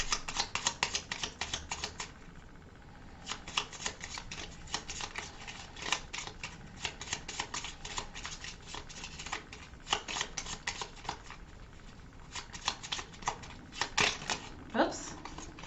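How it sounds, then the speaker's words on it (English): Cards from the board game Architects of the West Kingdom are shuffled by hand in a close, steady run of crisp riffling and snapping bursts, pausing briefly now and then. "I believe I just shuffle this and"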